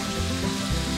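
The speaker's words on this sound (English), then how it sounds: "Really want to let that sizzle first, don't move it around." Beef sizzles loudly as it fries in a pan, a dense steady crackle and hiss heard up close, with no voices.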